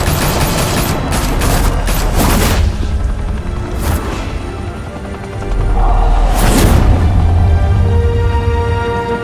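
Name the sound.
gunfire in Batman: The Telltale Series video game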